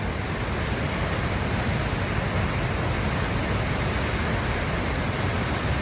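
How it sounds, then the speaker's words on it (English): Tahquamenon Falls in Michigan's Upper Peninsula, a broad waterfall about 200 feet across and 50 feet high, roars as a steady, dense rush of falling water, loud and unbroken throughout with no voices. "Check that out, one of the largest waterfalls east of the Mississippi, 200 feet across, 50 feet down"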